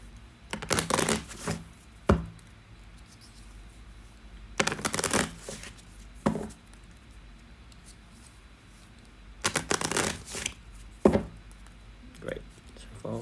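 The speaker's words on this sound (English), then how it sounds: "So we put that back in on our deck, shuffle it." A deck of game cards for the board game Skytear Horde is shuffled by hand in three separate riffling bursts, each about a second long, with quiet gaps and a few soft taps between them.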